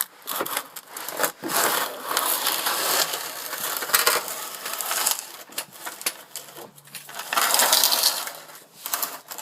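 Tools work on bolts of a 2006 Ford Crown Victoria Police Interceptor, likely a torque wrench tightening cast aluminum parts to 40 foot-pounds, giving dense, continuous close ratcheting and clicking noise with brief pauses and no speech.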